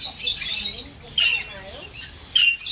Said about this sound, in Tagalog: Look at the ring neck.